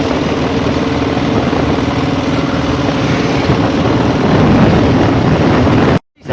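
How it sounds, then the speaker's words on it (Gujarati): Tractors pass by a house, one going and another coming, making a loud, steady engine drone that holds close and even before cutting off abruptly at the end. "એક ટ્રેક્ટર જાય છે અને બીજું આમથી આવે છે"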